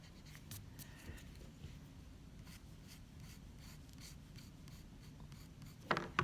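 A pencil shades strands of hair on paper in a drawing lesson, making a soft, steady scratching with rhythmic back-and-forth strokes, close and quiet, ending in a couple of sharper louder scrapes.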